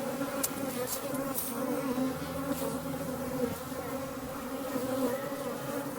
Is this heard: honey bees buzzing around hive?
yes